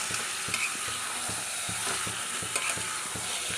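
Eggs and potatoes frying in a heavy spiced masala, a constant loud sizzle under a regular rhythm of scraping stirs against the pan, close up, no voices.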